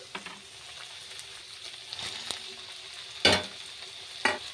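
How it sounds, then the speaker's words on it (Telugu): Broad beans frying in a pan, a soft steady sizzle with scattered light stirring ticks, then two sharp louder bursts of hissing as tomato drops into the hot oil, heard close with no talking. "చిక్కుడుగాయ మంచిగా ఫ్రై అయిపోయింది ఇప్పుడు మనం ఇందులో టమాటా యాడ్ చేసుకుందాం"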